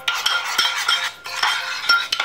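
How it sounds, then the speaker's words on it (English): A spoon stirs Greek yogurt and cinnamon in a bowl, with steady scraping and repeated clinks of metal against the dish, close and fairly loud, with no voices. "I'm going to mix that up nicely."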